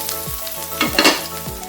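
Sliced onions hit hot oil in a pan, producing a brief, close, crackling sizzle with small spitting pops, heard alone without speech.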